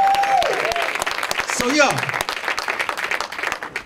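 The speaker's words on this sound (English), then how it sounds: "you could clap if you know the song" Audience at a music talk clapping along to a song, with dense, steady applause-like claps running throughout under a voice speaking briefly.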